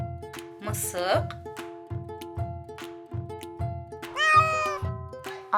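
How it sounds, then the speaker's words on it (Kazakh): A cartoon cat meows twice in a children's animation about farm animals and their young, clear and close, over a steady rhythmic music backing with a narrator's voice in between. "Мысық."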